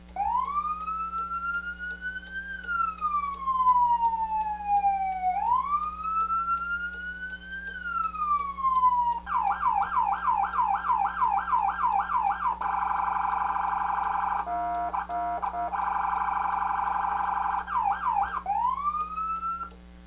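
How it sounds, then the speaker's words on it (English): A loud electronic siren from a Federal Signal Touchmaster siren speaker cycles through several tones: slow rising-and-falling wails, then rapid yelps and steady two-tone blasts, with no talking. "And this is all coming out of the siren speaker."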